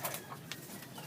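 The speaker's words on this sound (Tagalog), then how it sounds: "Naghihingal-hingal po yung kalapati namin." A pet pigeon gives soft, breathy coos and quick panting sounds at close range over about a second, faint with low background hiss.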